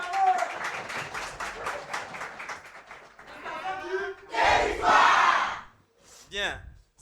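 Audience at a school quiz contest between two lycées claps and cheers in bursts, with shouts and a loud crowd roar midway, broken by brief voices and a short final whoop.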